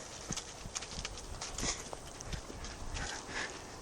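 Horse hooves clip-clopping at a trot during a thoroughbred restart, a steady run of sharp, fairly close hoof strikes over a faint background hiss, with no talk.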